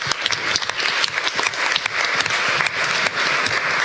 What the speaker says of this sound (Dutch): En geef hem ook een hartelijk applaus.